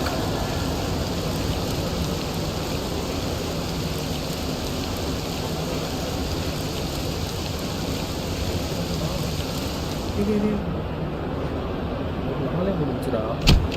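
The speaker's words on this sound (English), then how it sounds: "The rain beginning to pour down." Steady heavy rain pours down in the Cricket 07 video game during a rain delay in an Ashes 2005 Test match, a dense continuous hiss with a faint knock near the end.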